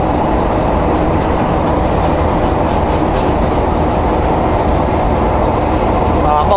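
Truck rolling along with tire chains fitted on both axles, a loud continuous rumble with rhythmic metallic clatter and rattle, steady throughout.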